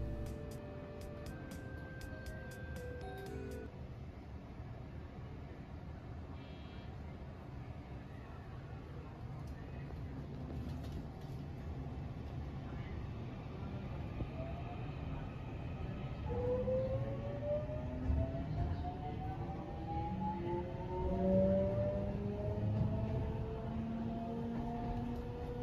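A JR 207 series commuter train on the JR Kobe Line local service pulls out of Nishi-Akashi station, heard from aboard. Its motor whine climbs steadily in pitch as it accelerates, under a constant rumble with brief tones near the start.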